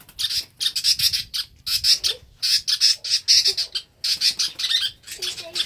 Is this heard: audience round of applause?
no